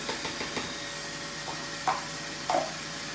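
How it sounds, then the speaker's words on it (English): An electric mixer whisks egg whites in a bowl with a continuous, even whir, and two brief knocks stand out as the beaters touch the bowl. "we're going to whisk our egg whites"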